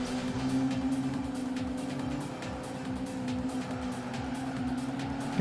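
A racing car's engine in the Gran Turismo video game drones quietly and steadily with a rising and falling whine as it accelerates, faint and continuous with no talk over it.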